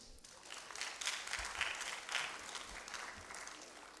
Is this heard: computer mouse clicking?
no